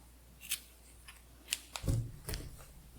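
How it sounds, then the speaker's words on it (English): Scissors snip through a yarn tail left from a crocheted granny square, giving a few quiet close clicks followed by a louder snip and handling rustle, without talk. "Then we cut off a tail long enough to weave in"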